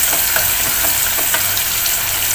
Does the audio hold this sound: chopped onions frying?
yes